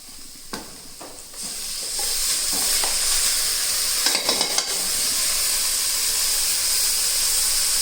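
Spinach paste sizzles and hisses in hot frying masala in a pan as a spoon stirs it, with a few scraping clicks at first before a steady loud sizzle takes over.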